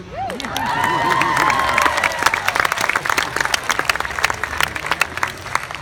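A large crowd at a high school graduation cheers and applauds loudly, with sustained clapping and scattered shouts and whoops throughout.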